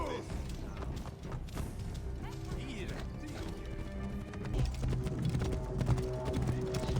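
Horse hooves clip-clop steadily while riding in Assassin's Creed Origins, a rhythmic trot under a dense, loud wash of game music and ambience, with some creaks and mechanical clatter.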